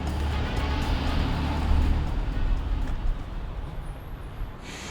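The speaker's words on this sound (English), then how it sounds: "We're waiting for the train right now in Queens to go into the city" Waiting for a train at a station in Queens, New York, with a steady rumble of passing road traffic and engine noise filling the space, fading slightly toward the end.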